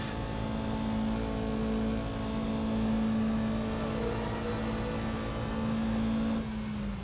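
Mazda MX-5 Miata roadster driving at the Monza circuit, its engine a steady, close droning hum with strong tonal whine that holds evenly for about six seconds before dropping slightly at the end.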